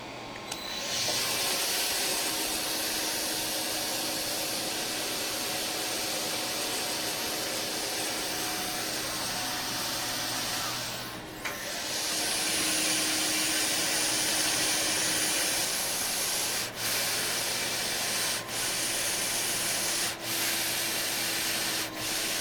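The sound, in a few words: wire saw cutting through an object, dust vacuum running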